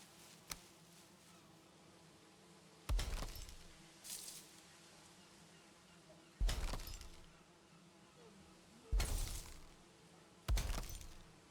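Glass window panes snapping into place while building an Eitr refinery in a game, heard as four or five sharp glassy clinks at irregular intervals, moderately loud against a faint hum.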